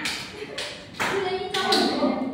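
A small group of children clapping in a classroom hand-clapping game, with a few distinct, crisp claps in quick bursts spaced through the moment, close by and moderately loud.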